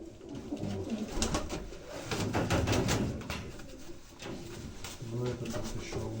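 Black pigeons cooing close by in a dovecote, repeated low throaty coos from several birds, with voices murmuring underneath.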